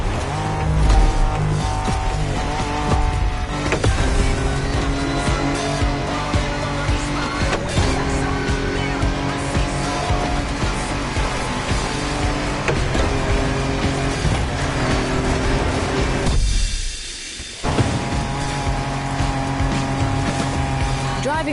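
Cars race off-road in the video game The Crew, engines droning and revving continuously with rumbling wheels and music, while a narrator speaks over them throughout.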